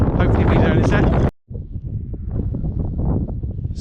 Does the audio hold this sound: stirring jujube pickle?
no